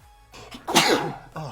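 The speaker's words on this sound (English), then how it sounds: "I think we've got another sneezing session" A sneezing fit from a creature in the sci-fi strategy game Stellaris, heard as a few short, sharp bursts, with one loud, breathy burst in the middle standing out above the others.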